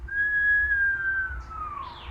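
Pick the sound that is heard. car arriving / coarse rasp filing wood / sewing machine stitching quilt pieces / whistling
whistling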